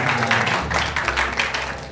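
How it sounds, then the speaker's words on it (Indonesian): Audience applause at an Indonesian talk-show event on human rights, a short burst of scattered clapping from a small crowd, moderately loud and fairly close. "tepuk tangan dong teman-teman semua"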